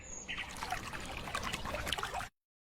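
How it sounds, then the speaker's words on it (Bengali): Water trickles and splashes steadily from a tap as hands and face are washed, a close, continuous pouring that stops abruptly. "আমি হাত মুখ ধুয়ে আসছি এখনই"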